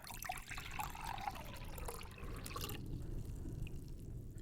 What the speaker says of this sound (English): Pour the water into the cauldron,